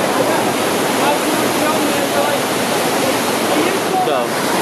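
Shannon Falls waterfall and a fast-flowing river, a loud, steady broadband roar of rushing water that stays constant and close throughout.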